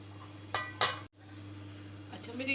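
Metal spoon scraping and clinking against a pan and serving dish while cooked smoky chicken curry is dished out, two sharp clanks then quieter scrapes over a steady background hum.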